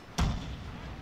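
Cannon artillery fire in the Total War: Shogun 2 – Fall of the Samurai video game, one sudden booming thud followed by a rumbling decay, set against low battle ambience.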